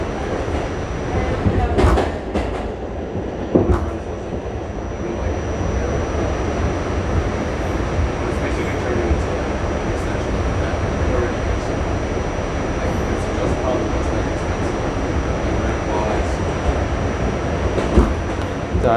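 A New York City subway N train riding along the line, with a steady loud rumble, rattling car noise and occasional clanks, plus a faint high whine throughout.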